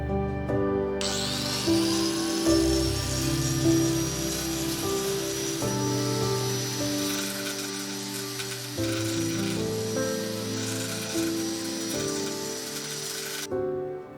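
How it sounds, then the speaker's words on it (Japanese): Bench grinder or angle grinder sharpening the tip of a metal rod for a DIY lantern stand, a steady high-pitched whine with a shifting grinding tone running continuously for the whole stretch, close and loud, no talking. "まずはグラインダーで先端を尖らせます。"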